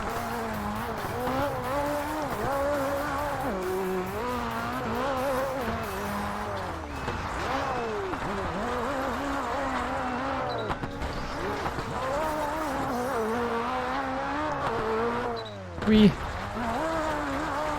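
Rally cars race in RalliSport Challenge 2 on Xbox, with a steady whining engine that rises and falls through gear changes, bursts of tire skidding and a sharp knock near the end, heard alongside game audio.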